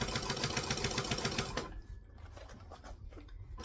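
Stitching a half-inch seam around a curve, a sewing machine chatters in a rapid rhythmic run, then slows and stops partway through, leaving soft fabric handling sounds.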